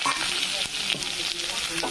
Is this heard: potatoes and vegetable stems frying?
yes